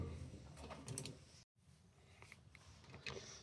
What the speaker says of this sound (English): we've got the quarter inch socket piece on the impact driver